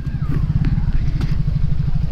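A Benelli motorcycle engine idling close by, a steady, fast, throbbing low chug with light mechanical clatter throughout.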